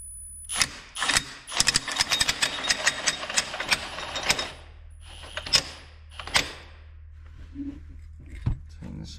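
A part is tightened on a John Deere 450B dozer engine under rebuild. A rapid run of sharp metallic clicks and taps slows into a few isolated knocks, close and fairly loud against a faint background hum.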